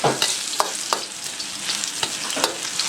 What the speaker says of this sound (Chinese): 锅留底油啊，葱姜蒜炸香